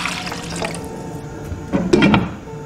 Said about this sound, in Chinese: 锅中倒入清水，大火烧开